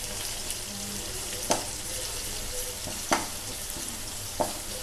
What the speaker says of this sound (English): We have to fry the garlic and fenugreek leaves till they releases their aroma or fragrance.